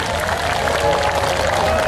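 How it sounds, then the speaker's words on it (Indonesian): Audience applauding at a Gus Miftah stage event, a dense, continuous wash of clapping from a large crowd with a voice faintly mixed in. "Tepuk tangan untuk BSI."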